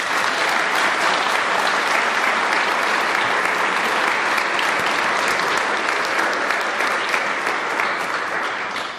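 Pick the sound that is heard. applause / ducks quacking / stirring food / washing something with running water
applause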